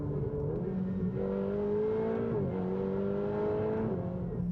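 A Ferrari 488 engine pulls hard under acceleration, its pitch climbing steadily, then dipping briefly at a quick gear shift before climbing again, heard as a moderately distant, even drone.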